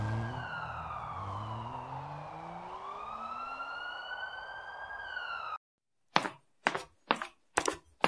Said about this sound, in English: Ah shit, sirens, I can hear them.